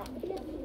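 Domestic pigeons, desi and Bombay breeds kept in a seller's loft, coo briefly at close range while a voice runs underneath.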